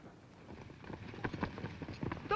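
Hooves of unbroken wild range horses clip-clop in a quick, uneven run, moderately close and growing louder toward the end, with no talk over them.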